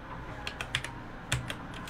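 Scattered keystrokes on a computer keyboard with a known fault, about ten sharp clicks at uneven intervals over a quiet room background, close and moderately loud, with no talk.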